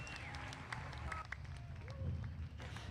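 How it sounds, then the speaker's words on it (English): Audience applause at a market goat show in a livestock arena, a steady spread of clapping from the crowd running the whole time, with an announcer and crowd voices mixed underneath. "Let's give them a nice round of applause."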